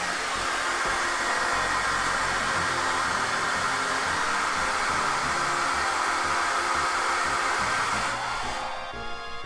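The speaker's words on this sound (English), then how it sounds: "we're gonna grab the hair dryer really quickly and it's just, you know, blow dry it really quickly" A hair dryer blows steadily at close range onto an action figure's hands, a continuous loud broadband whoosh with a slight pitch shift partway through, cutting off abruptly near the end.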